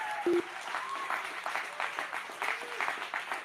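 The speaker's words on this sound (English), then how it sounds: "And you got idiots in the fucking back clapping" Audience clapping at a public gathering, a steady patter of hands at moderate distance with some background voices mixed in.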